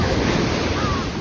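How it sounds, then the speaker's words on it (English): Big ocean wave surging and crashing onto a beach, a loud continuous roar of surf with wind buffeting the microphone. "It's a big wave coming."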